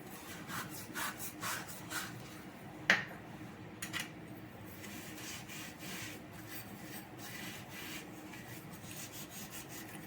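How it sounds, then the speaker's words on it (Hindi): Brass puja utensils are scrubbed with Pitambari cleaning powder, a soft, steady, repetitive rasping rub with one sharper knock partway through, close and fairly quiet, with no talking. "अभी मैं इन्हें पीताम्बरी से अच्छे से साफ करूँगी।"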